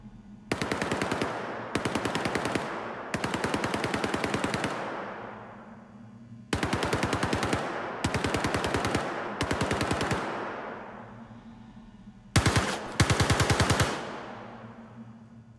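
Bursts of automatic weapon fire from the Star Citizen first-person shooter module, several rapid volleys of varying length with brief gaps, some sounding closer and punchier, others more distant with fading tails, no voices.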